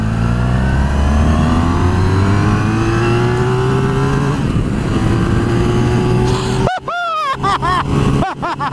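Honda VFR1200X motorcycle accelerating hard in second gear from near idle, engine note climbing steadily and loud before a person exclaims over it near the end.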